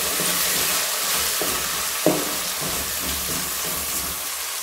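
Chopped tomatoes frying with onion, garlic and ginger in a pan give off a steady, dense sizzle, with a few soft stirring knocks and one sharper clack midway, close by and with no talk.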